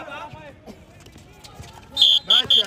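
Electronic buzzer at an indoor basketball semifinal game, three short loud blasts near the end, over crowd noise and a commentator talking.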